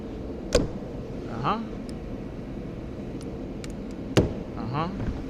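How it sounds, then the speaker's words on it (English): A push pin puller pries a plastic push pin out of a 2023 Ford Super Duty, giving two short, sharp snaps several seconds apart, with a person talking over steady background noise. "Or better yet, I can use this up here now. The push pin puller."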